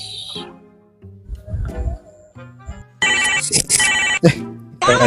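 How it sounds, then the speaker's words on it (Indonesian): A loud, melodic phone ringtone plays in bursts of bright electronic tones, close and dominating. "Telepon."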